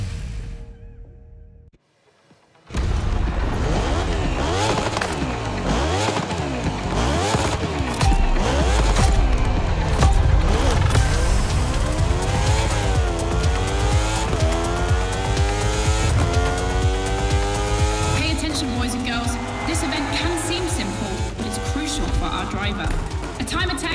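Race cars in The Crew Motorfest's Red Bull Speed Clash roar past after a brief silence, engines rising and falling through gear shifts with sweeping pitch changes, loud and continuous with some talk and music beneath.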